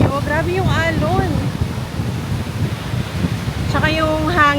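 Strong wind and surf at White Beach, Boracay in habagat season, a constant broad rushing roar while people talk over it on and off.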